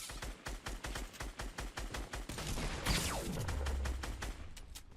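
Rapid gunfire in Fortnite, with a fast rhythmic string of close shots followed by a sweeping whoosh and a few scattered shots, loud and with no voices.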